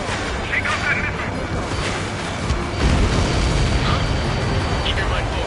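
An enemy transport aircraft explodes in the Ace Combat 7 air-combat game, a loud booming burst mixed into dense continuous jet and battle noise, with radio chatter layered over it.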